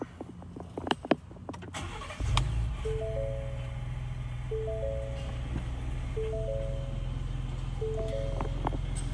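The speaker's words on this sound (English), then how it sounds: "Now we're going to start the vehicle and make sure everything goes." A Ford Raptor with a 3.5L EcoBoost engine fires up after a few clicks and a brief crank, then holds a steady rumbling idle close by, with repeating electronic chimes over it and no talking.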